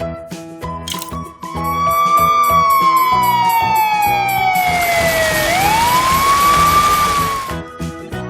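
A toy fire truck siren sounds loudly and up close, sweeping slowly up and down in long wails, with added noisy hiss partway through.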